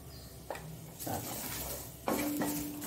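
Grated coconut fries with turmeric powder in a pan, a soft sizzle broken by a few clinks and scrapes of a utensil against the metal.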